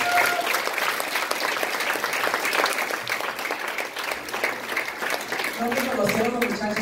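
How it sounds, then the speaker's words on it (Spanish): A church congregation claps together during a Christmas program, brisk continuous applause that fades slightly midway, then a voice begins speaking over the last of the clapping. "Gloria al Señor, dele palmas al Señor."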